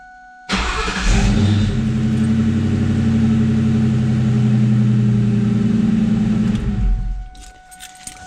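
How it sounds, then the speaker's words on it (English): A 1996-2004 Ford Mustang with a 4.6 engine cranks briefly on a newly fitted starter, then catches and settles into a loud, steady idle for several seconds before shutting off. "just go ahead and start up the vehicle"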